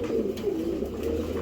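A brief burst of steady, throaty cooing from a pair of Giribaz pigeons, low rolling calls heard up close.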